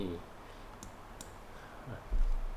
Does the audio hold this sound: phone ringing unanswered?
no